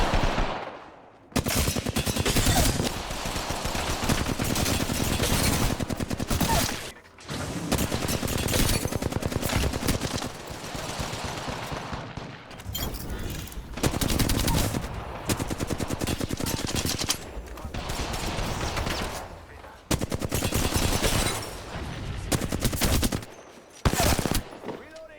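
Gunfire from a first-person shooter video game roars in long, dense bursts of rapid machine-gun fire, loud and close, broken by brief pauses.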